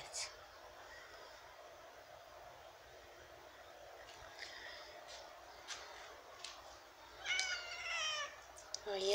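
A house cat recovering after an operation gives a few short meows late on, close and fairly clear, while a person talks softly to it over a steady background hiss.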